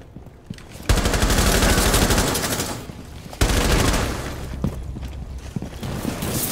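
Two long bursts of rapid automatic gunfire from a Rainbow Six Siege match, loud and close, with a short lull between them and scattered single shots and clatter continuing afterward.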